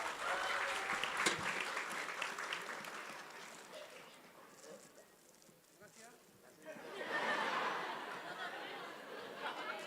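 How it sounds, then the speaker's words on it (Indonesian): Audience clapping at a public forum in Bandung, a moderate crowd applauding in two swells with chatter mixed in, fading between and rising again. "Terima kasih Kang Zabir, boleh tepuk tangan."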